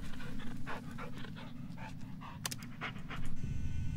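In the Blair Witch video game, a dog pants steadily and rhythmically while being petted, with short breathy puffs over a low constant rumble of background noise.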